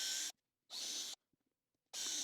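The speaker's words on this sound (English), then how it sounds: "what we need to do is to pre-drill some holes for them" A power drill whirs in three short bursts, each under a second, pre-drilling holes for a garden nesting box, separated by brief quiet pauses with faint handling clicks.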